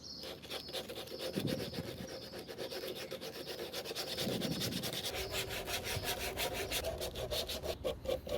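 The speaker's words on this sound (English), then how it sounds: "I decided to use the hand sander to make the 1/8 inch roundover on the body." A hand sander steadily rubs a wooden guitar body edge to form an eighth-inch roundover, giving a continuous, fairly quiet scraping and rasping texture with gentle rhythmic strokes throughout.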